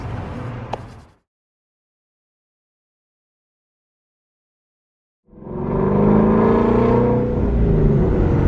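A car engine is heard briefly, then cuts to silence for several seconds before returning with a loud, close surge of acceleration whose tone holds and swells to the end.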